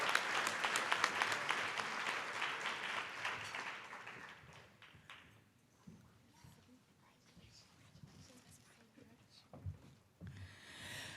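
An audience at a Teacher of the Year ceremony applauds the educators. The clapping is loud at first, then fades after a few seconds into quiet murmurs and shuffling, and a short burst of claps returns at the end.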